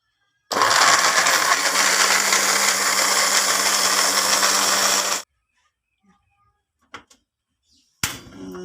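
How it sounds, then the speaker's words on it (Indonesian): Kitchen blender grinding water with garlic and spices for serondeng seasoning, a loud steady whir for about five seconds that stops abruptly, followed by a few faint knocks and clatters. "kita blender."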